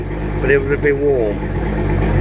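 An outboard motor idles on flush muffs with a low, steady, close rumble. Someone talks over it the whole time.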